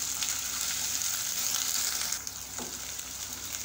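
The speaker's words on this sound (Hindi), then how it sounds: "अब यहाँ पे 1 चाय का चम्मच अदरक लहसुन का पेस्ट हम इसमें डाल देंगे और इसको अच्छे से भून लेंगे।" Ginger garlic paste sizzles and fries with browned onions in a pan, a steady, close hiss throughout, easing slightly in the last second and a half.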